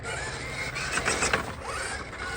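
An RC crawler's drivetrain whines and grinds under load, with a mechanical squeal and a few clicking gear bursts in the middle, fairly quiet and continuous outdoors.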